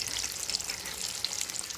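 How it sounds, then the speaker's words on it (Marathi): Dense, steady sizzling and bubbling of potato vadas for vada pav deep frying in hot oil in a wok, close and continuous with no talking. "आणि पहा आता मी तळायला सोडलेले आहेत"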